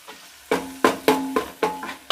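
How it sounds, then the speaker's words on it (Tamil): Chopped onions, garlic and ginger for a bone soup are stirred in a hot pan, giving a series of five or six close, rhythmic scraping-sizzle bursts, each swelling and fading, with no voices. "இது எல்லாத்தையுமே ஒரு 2 நிமிஷம் நல்லா வதக்கிக்கலாம்"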